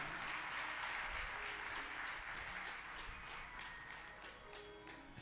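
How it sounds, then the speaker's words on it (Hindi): Audience applause at a Hindu bhajan and puja gathering, a broad steady patter of many hands clapping together for the full stretch, fairly close and full, fading slightly toward the end with no talk over it. "एक बार जोरदार तालियां"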